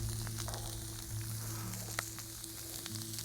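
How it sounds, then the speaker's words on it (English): A chorizo patty sizzles on a Vulcanus grill with a steady, moderate crackle and an occasional sharp pop, over a constant low background hum. "I'm just going to put this onto the grill initially as a sort of patty"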